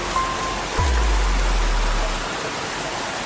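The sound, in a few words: river flowing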